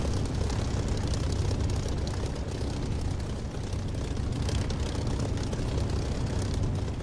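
A propeller aircraft engine drones steadily as the plane taxis towards the runway in the DCS flight simulator game, a loud even rumble with no breaks and no talking.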